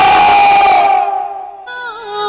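A crowd of women raises a loud, sustained victory cheer in unison. The voices hold a long shout that fades, and a fresh burst of cheering rises near the end.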